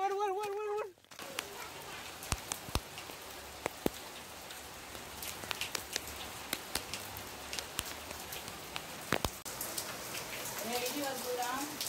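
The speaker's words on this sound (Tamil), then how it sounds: "மழை பெய்யுது" Rain falls steadily on a village, a dense patter with scattered sharper drops hitting nearby surfaces, under and between voices talking.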